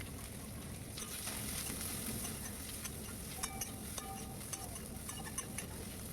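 Onions and a green chilli sizzle and fry in a pan with boiled potatoes while being stirred, a steady quiet hiss broken by light clicks of the spoon against the pan.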